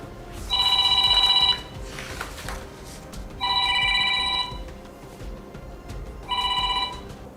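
A telephone rings in three separate bursts with pauses between them, clear and fairly close over a quiet room background.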